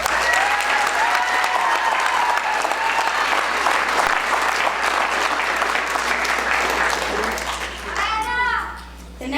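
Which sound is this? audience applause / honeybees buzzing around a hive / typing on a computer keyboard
audience applause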